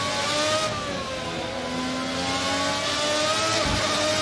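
A 1990 Formula RSS V12 race car in a racing simulator game screams at high revs, loud and continuous, with its whining pitch stepping down through downshifts and no voices over it.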